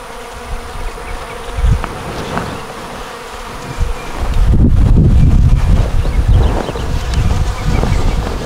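Honey bees buzzing thickly and close around a 5-frame nuc being moved into an 8-frame hive outdoors, a steady swarm drone with some wind noise and soft rustling, swelling louder in the second half.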